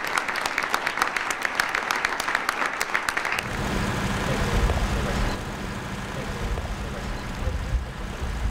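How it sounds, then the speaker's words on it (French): An audience applauds veterans at a ceremony during an official state visit to the USA, with brisk clapping for about three seconds before it cuts to a low, rumbling engine-like drone. "je veux que vous puissiez, au-delà de cette cérémonie, applaudir les vétérans"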